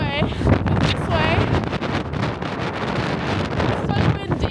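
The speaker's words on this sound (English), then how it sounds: "It's so windy," Extreme wind at Dovestone Reservoir roars and buffets the microphone steadily throughout, loud and close, while people speak over the gusts.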